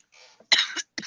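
Several harsh coughs in quick bursts, close by, separated by brief silences, with no talking.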